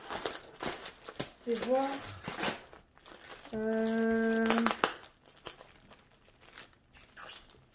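A plastic bag of diamond painting drills is opened, giving close, crinkly rustling in bursts while a person speaks French between the handling noises.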